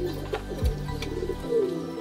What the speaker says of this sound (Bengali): দেখুন লাল পেয়ার গিরিবাজ রয়েছে